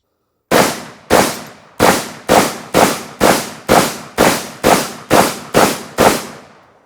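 A Vepr 12 shotgun, an AK-style magazine-fed semi-automatic, fires about eleven loud, sharp reports in a steady rapid cadence outdoors, each shot ringing out briefly before the next.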